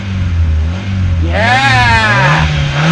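A car engine cranks and fires up, rising into a rev with bright harmonic sweeps before settling to a steady low rumble, close and loud.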